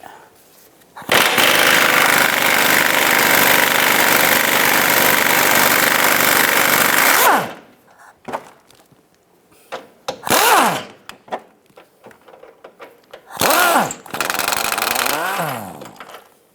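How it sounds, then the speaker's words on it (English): A power tool, likely an impact wrench, drives a 19mm socket on a front lower control arm bolt of a 2004-2009 Toyota Prius: one loud sustained whir of about six seconds, then shorter bursts and clanks after it. "We're going to take this bolt out, use a 19mm socket."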